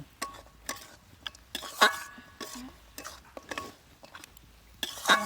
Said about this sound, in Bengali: এভাবে ভালো করে ভেঙে নেবেন খুন্তি দিয়ে আমিও ভেঙে নিচ্ছি